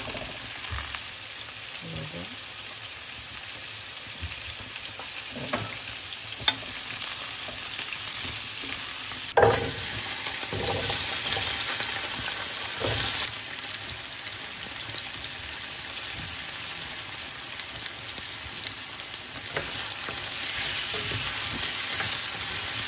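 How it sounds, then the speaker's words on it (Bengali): Tomato sizzling and frying in a hot pan with a steady crackle throughout, occasional stirring knocks and scrapes, close and continuous with no talk. "একই সঙ্গে টমেটোটা ভেজে নিচ্ছি।"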